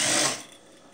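A sewing machine runs briefly as it stitches along the edge of a cushion cover, a fast buzzing whir up close that quickly fades to a quieter hum.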